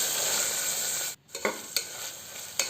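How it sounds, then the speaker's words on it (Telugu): Mint leaves fry in ghee in a pan with a steady bright sizzle. The sizzle drops out briefly, then returns with a few distinct scraping clinks as a spoon stirs them. There is no talk. "అది కాసేపు ఫ్రై చేసుకున్న తర్వాత"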